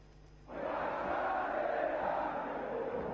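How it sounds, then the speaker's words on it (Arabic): Al Ahly supporters filling a stadium raise a loud, sustained roar that starts abruptly and holds steady, a dense wall of crowd noise with chanting energy and no clear individual voices. "هو ده صوت الجمهور اللي دايما بيدينا الحماس"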